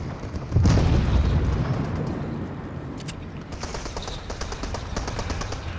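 Bursts of rapid gunfire from shooting at enemies in a Fortnite trios match, loud and close, with a heavy blast near the start and a continuous rattle of shots running through to the end.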